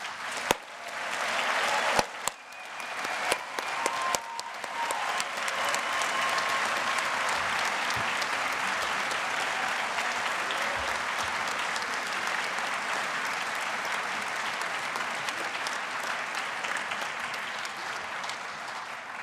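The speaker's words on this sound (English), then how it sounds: "Let's give them all a round of applause" A large graduate commencement audience applauds master's degree candidates, a dense, sustained roar of clapping that swells after a few sharp claps and holds steady for nearly twenty seconds.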